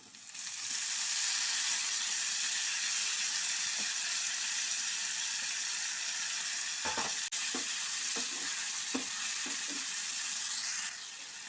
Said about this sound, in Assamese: এতিয়া মই বিলাহীখিনি দি দিছোঁ